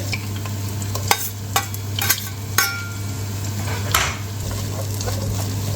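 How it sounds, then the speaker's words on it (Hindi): Sliced onions tossed into hot oil in a pan and sautéed, giving a steady close sizzle punctuated by several sharp spatula stirring strokes, with a low hum underneath. "तो गाइस, इसको मैं सौटे कर लूँगा अनियन को।"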